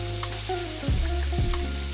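Sausage and ground beef hit a hot pan for Cajun dirty rice with a loud, close sizzle. Two sharp bursts of spitting fry break out as more meat drops in, over a steady crackling hiss.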